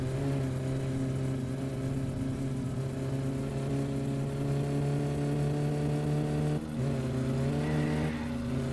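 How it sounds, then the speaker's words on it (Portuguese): Satsuma car engine in My Summer Car, tuned with a turbo, holding a steady loud drone with a brief dip and two quick throttle blips near the end, no voices. "Vou dar umas piscadinhas no acelerador"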